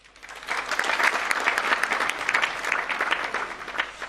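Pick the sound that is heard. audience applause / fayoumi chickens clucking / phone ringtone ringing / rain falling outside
audience applause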